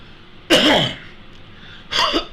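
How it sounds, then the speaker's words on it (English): Two sharp coughs, the first at once louder and longer, the second following after a short pause, close to the ear. "don't mean to cough in your ear"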